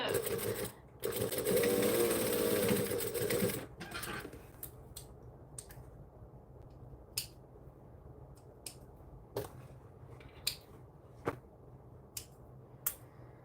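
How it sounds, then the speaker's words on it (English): A sewing machine stitches across the bottom of a piece of fabric in a loud continuous whir for a few seconds, then stops, leaving quiet handling with sharp isolated clicks and taps. "Then we just squish this down flat and stitch across the bottom."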